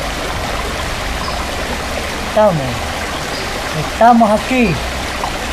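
The Tamulasco river at Ojos de Agua, Chalatenango, El Salvador, with clear spring water, makes a steady broadband rush of flowing water throughout, while people speak briefly over it in two short bursts.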